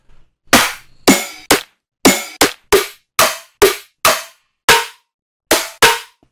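Layered metallic snare drum samples triggered in an Ableton Live future bass beat, a dozen sharp dry hits in an uneven rhythm, loud and isolated with silence between them.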